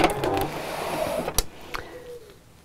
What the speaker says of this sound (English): Never had a problem sewing over nylon zips